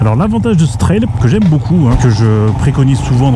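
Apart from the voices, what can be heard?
No distinct noise like a dog, phone or traffic.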